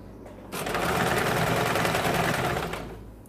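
A sewing machine runs steadily for nearly three seconds while stitching a lined blouse, a close, even mechanical whirr that starts abruptly and tapers off, with no voices.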